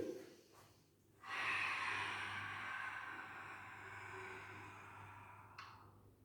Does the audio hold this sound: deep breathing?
yes